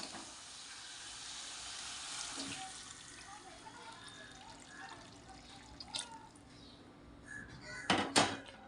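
Hot water being poured into chicken curry in a pot, a splashy pour with drips and clinks of cookware, followed by a couple of louder sloshing bursts near the end.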